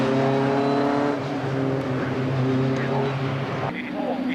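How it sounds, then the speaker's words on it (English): Race cars pull out onto a dried-out track for the 1997 BRDC National Supersports 200 Championship race at Mallory Park, a steady engine drone with harmonic whine that dips and shifts as cars pass, under commentary talk. "22 cars coming out for the race"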